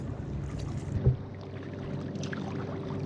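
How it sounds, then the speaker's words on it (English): Canoe or kayak paddling on open water near Goodland around Hells Gate, Florida, with a steady wash of water and wind noise and one soft, close splash or knock from a paddle stroke. "we'll be paddling for a little bit here."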